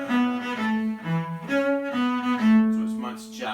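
A cello plays a tune with swung quavers, giving a lilting long-short jazzy rhythm. The bowed notes are close, warm and sustained, and no one speaks over them.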